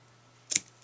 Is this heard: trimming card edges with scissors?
yes